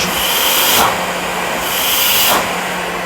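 A Karcher IVM 40/12-1 industrial vacuum cleaner with a 70mm inlet runs steadily nearby, giving a loud continuous rushing hiss with slight swells in the airflow.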